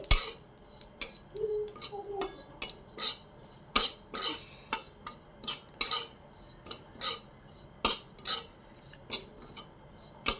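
A utensil scrapes and clinks steadily against a pan as ingredients for bakarwadi filling are stirred and roasted over a low flame, a close, repeated rhythm of metallic scrapes with no talking.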